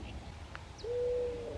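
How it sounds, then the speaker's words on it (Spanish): A common wood pigeon calls in rural winter woodland, giving a single soft, steady coo that rises out of low background ambience near the end, with faint distant chirps before it. "En esas arboledas encontramos enormes bandadas de torcaza,"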